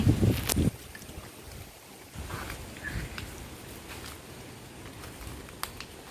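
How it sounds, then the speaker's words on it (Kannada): Steady outdoor wind buffeting the microphone among banana plants and areca palms, with a loud gust at the start and a continuous rushing hiss throughout. "ಚೆನ್ನಾಗಿ ಗಾಳಿ ಬರ್ತಾ ಇದೆ"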